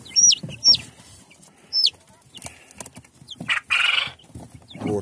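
Sharp high cheeps from a week-old Tsarskoye Selo breed chick being picked up, several short chirps in quick bursts with rustling handling noise, close and loud.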